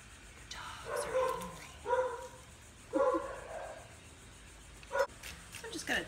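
Several sharp dog barks come in short bursts at moderate distance, spaced a second or so apart, with faint background noise.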